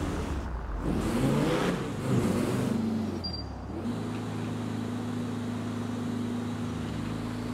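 A Mercedes-Benz car engine revs in the video game GTA 5, a loud, rough roar that surges and dips, then settles into a steady droning hum with a brief whine over it, with no talking.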